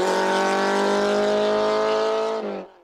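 A Simca 1000 rally car in a production-class hillclimb event roars past close by at high revs, its engine note holding steady, then cutting off abruptly as it moves away.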